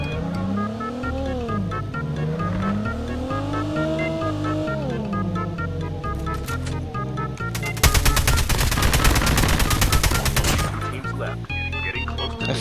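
Rapid automatic gunfire in the mobile shooter game Call of Duty Mobile, a dense burst of shots lasting a few seconds over continuous game music and engine hum.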